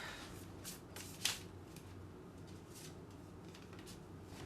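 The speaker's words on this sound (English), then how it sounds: "Do a quick shuffle." Soft, quiet riffling of tarot cards being shuffled, with a brief sharper snap partway through, close by in a hushed room.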